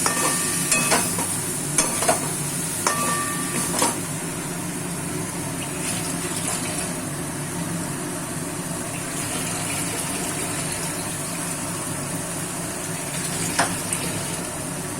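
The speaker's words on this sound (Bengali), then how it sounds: "এবার আমি ফুলকপি এবং আলু অ্যাড করে দেবো" Cauliflower and potatoes are added to spiced masala in a pan and fry with a steady loud sizzle, while a utensil scrapes and stirs in a few sharp clinks early on, with no talk.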